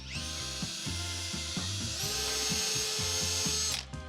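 Power drill spinning a buffing pad to polish painted automotive paintwork and remove orange peel, a steady whirring motor whine with rhythmic pulsing as pressure shifts, close and loud throughout, pitch rising briefly near the end before stopping.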